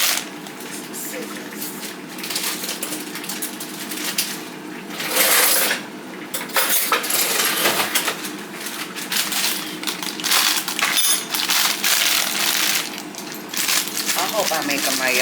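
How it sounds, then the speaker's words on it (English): Cheddar Bay biscuit mix is poured from a pouch into a bowl, giving dry rustling and crinkling of the packet with soft powdery pours and occasional clatter, close up. "take 1 pouch of the Cheddar Bay biscuit mix and put it in there"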